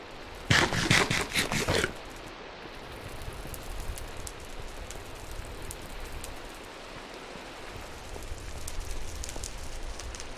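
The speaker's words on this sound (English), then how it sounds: "you can hear the rain actually hitting, like, the ceiling above me" Rain in the Minecraft video game patters steadily on a ceiling overhead as a dense, even hiss, preceded by a brief burst of sharper clattering hits at the start.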